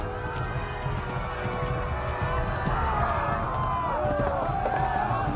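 Hooves gallop continuously beneath a game score in Kingdom Come: Deliverance, a horse running at steady speed with a voice talking over the action.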